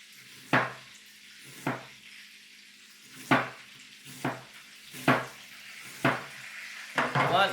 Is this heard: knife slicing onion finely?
yes